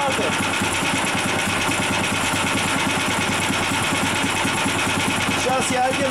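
LIFAN KP 460 engine with a PZ 30 carburetor idling low, a steady, rapid pulsing putter close by, with someone talking over it.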